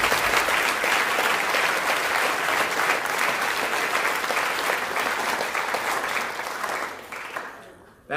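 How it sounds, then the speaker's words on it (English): Sustained applause from a large audience at a high school senior awards ceremony, dense clapping at a steady level that tapers off and fades near the end. "Give all these students a round of applause."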